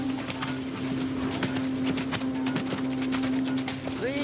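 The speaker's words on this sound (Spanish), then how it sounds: "Estos son caballos medievales de viaje." Medieval-style travel horses walking, hooves clip-clopping in a quick irregular patter over a steady background hum, moderately close with no talk.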